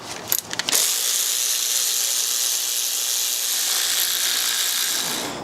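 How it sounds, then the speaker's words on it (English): A tool works on the Allen bolts holding a car's EGR cooler, a few quick ratcheting clicks at the start, then a continuous close, loud whirring drone for several seconds. "unbolt the EGR cooler now"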